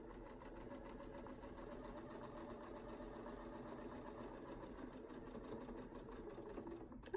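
A sewing machine stitches an oval in a steady, rapid needle rhythm, running continuously at an even level throughout with no one talking.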